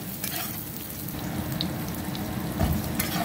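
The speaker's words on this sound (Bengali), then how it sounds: "তো দেখো আমি ক্যাপসিকামটা হালকা নাড়াচাড়া করে একটু ভেজে নেবো" Capsicum lightly fried in a pan on low heat hisses and crackles steadily up close, with stirring scrapes and a louder burst of sizzle near the end.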